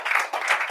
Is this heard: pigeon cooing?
no